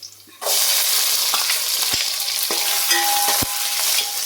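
Sliced onions dropped into hot oil in a pan for beef curry: a sudden loud sizzle bursts in after a short quiet moment and holds steady, broken by a few stirring scrapes and utensil taps.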